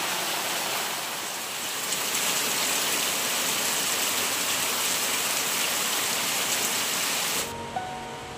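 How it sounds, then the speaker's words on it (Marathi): Heavy monsoon rain pours down in the Konkan countryside as a dense, even roar of drops that fills the scene, then cuts off abruptly near the end, leaving a quieter background. "पाऊस पडतो ना तेवढा धबाधबा."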